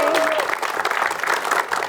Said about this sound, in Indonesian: Tepuk tangan dong buat Mbak Linda.